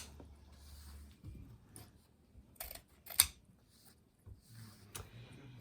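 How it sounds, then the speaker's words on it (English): Scissors cut lengths of ribbon for a traditional woodland curl Christmas wreath: soft, scattered snips and clicks, with quiet gaps between them and no talk. "So 12-inch lengths, we're cutting 6 of each one of our ribbons."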